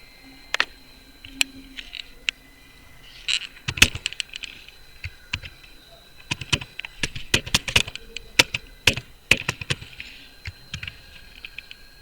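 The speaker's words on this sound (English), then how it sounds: "you need to type a command in the search bar" A command goes into a search bar on a computer keyboard, heard as irregular bursts of crisp, close key clicks. The clicks come in clusters with short pauses between them, and no one speaks.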